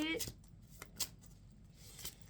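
A deck of medicine tree oracle cards is shuffled close by, giving a few soft riffling bursts and light card flicks at a quiet level.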